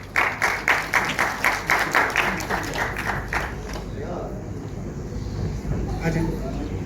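A small crowd at a Pakistani film launching ceremony claps in a burst of rhythmic, fairly close applause that fades into a murmuring hall, with people talking.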